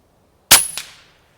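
One sharp, loud shot from a Brocock Sniper XR Magnum regulated air rifle, a crisp crack with a quick metallic clang and a short decaying tail, heard close in otherwise quiet surroundings.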